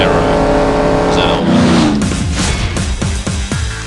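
A Chevrolet Camaro ZL1 in the CSR Racing video game roars loud and close, its engine pitch climbing through revs, then rapid gear shifts give a stuttering run of surges.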